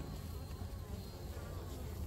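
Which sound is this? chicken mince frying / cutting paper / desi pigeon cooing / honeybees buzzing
honeybees buzzing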